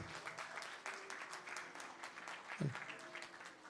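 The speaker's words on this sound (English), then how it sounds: "Give her a big round of applause, everybody" Guests at a Vivah Sanskar wedding ceremony applaud the bride, a light, scattered clapping from a modest crowd, fairly faint, with voices talking underneath and one louder thump near the end.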